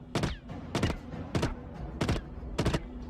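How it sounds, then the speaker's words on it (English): Five evenly spaced sharp impacts sound in a video game as bullets strike a bulletproof backpack. Each hit is punchy and close, with quieter background noise between them. "The bullets are bouncing off the backpack."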